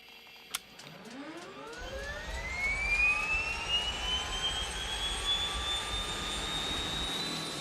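An aircraft engine starts after a click, its whine rising steadily in pitch and settling into a loud, steady turbine roar with a deep rumble underneath.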